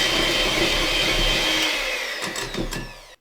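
An electric mixer whisks egg mixture into apple cake batter in a bowl, a loud steady whirring drone that winds down at the end with a few knocks, no talk.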